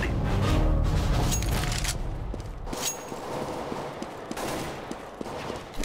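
Gunfire in a Counter-Strike: Global Offensive tournament match, dense bursts of shots and booms early, then scattered single reports continuing at a steady moderate level.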